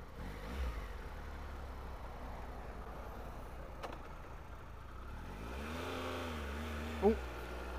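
A Triumph Tiger 1200 Alpine Edition motorcycle engine hums at a low steady idle under wind, then revs up clearly near the end as the bike pulls away, followed by a brief thump.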